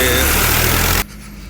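A tractor engine pulling a loaded sugarcane trolley roars loud and close for about a second, then drops abruptly to a much quieter low rumble.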